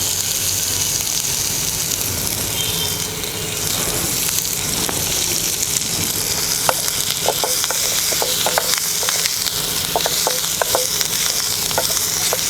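Onions fry in oil as they are stirred, a constant loud sizzle with scraping and clicking spoon strokes growing more frequent toward the end.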